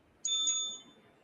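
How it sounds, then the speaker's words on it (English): A small bell on a switch panel gives a single bright ring, about two quick strikes blending into one metallic tone that fades within half a second, close and alone. "And a bell"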